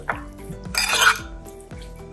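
A utensil stirs chicken liver with chilli powder, turmeric and a little oil in a pan, giving close scraping strokes against the metal and a soft sizzle, with clinks at the start of each pass.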